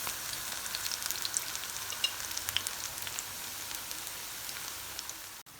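Onion pakoras frying in hot oil over medium heat, a steady close crackling sizzle with scattered pops running throughout.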